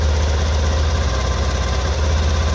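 A Honda Activa 6G scooter engine idles steadily close by, a constant low throbbing hum with a faint rattle, alone without voices.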